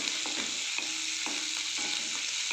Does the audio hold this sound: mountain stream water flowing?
no